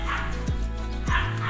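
A dog in K9 handler training gives short yipping barks and a whimper, close and loud, with two sharp calls about half a second apart.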